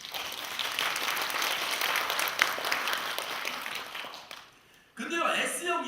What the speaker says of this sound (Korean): 동의하면 박수 한번 쳐요.